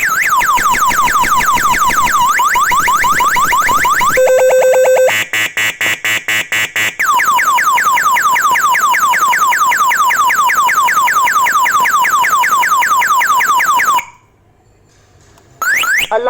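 An MT138BT motorcycle alarm siren blares loud and close, cycling through rapid warbling sweeps, a steady held tone and sharp pulsed beeps, then returning to sweeping wails before briefly cutting out.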